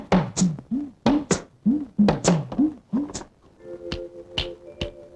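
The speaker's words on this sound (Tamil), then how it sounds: "சரி கதவை தட்டுங்க." Knuckles rap on a door in a Tamil comedy film scene: a quick, rhythmic series of about a dozen sharp knocks, loud and close, followed by a few fainter taps and a low steady tone.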